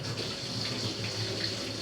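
Water runs faintly and steadily from a kitchen tap while vatha kuzhambu is being cooked, a soft continuous splash with no talking.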